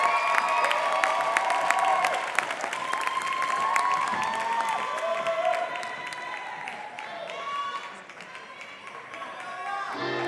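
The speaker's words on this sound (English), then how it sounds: "keep that applause going for our next couple," Crowd applause and cheering at the International Lindy Hop Championships 2018 advanced Lindy Hop finals for dancers Viktor Edlund and Claudia Fonte, sustained clapping with whoops and shouts that swells, then gradually thins toward the end.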